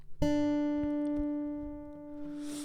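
A single acoustic guitar note is plucked and left to ring out clearly, fading slowly with a faint rustle at the end.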